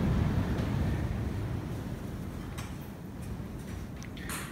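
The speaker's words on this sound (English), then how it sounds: "You hear how windy it is." Strong wind buffeting the microphone in a steady low roar, easing slightly, with a few faint clicks near the end.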